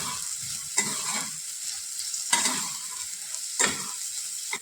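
Coriander powder and salt are stirred and sautéed in oil in a pan for a smoky brinjal bharit, a soft sizzle punctuated by three or four sharp spatula scrapes at a slow, regular pace, with no voices.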